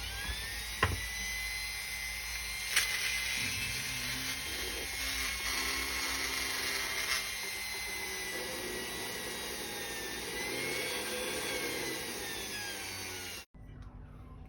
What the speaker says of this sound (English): I have used this guy to drill out the base of the foot and the bottom of the leg